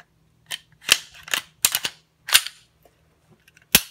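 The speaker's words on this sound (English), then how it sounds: "Putting our gun back together." A Glock pistol is reassembled after cleaning, with the slide and parts giving sharp metallic clicks and clacks in irregular bursts, close and fairly loud against near silence.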